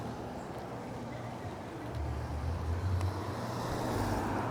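Steady low road-traffic rumble, slightly louder in the second half, heard while riding a Mihogo RX2.4 budget ebike through a shopping district, with no clear voices.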